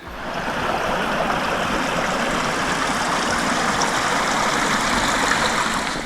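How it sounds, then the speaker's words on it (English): A steady, continuous rush of falling water from Toms Creek Falls fills the whole stretch, broad and unbroken, with no voices over it. "Sounds like we're getting closer to the Tom's Creek Falls"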